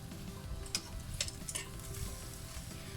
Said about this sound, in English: So we're just going to pan sear the fish first.